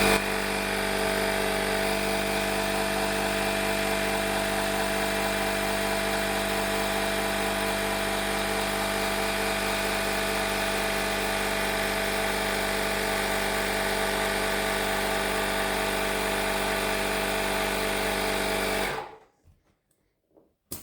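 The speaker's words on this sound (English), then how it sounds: "connect the air compressor hose, and on." A Parkside PKA 20-Li cordless air compressor runs with a loud, steady mechanical buzz and hum close by, then cuts off abruptly near the end, leaving near silence.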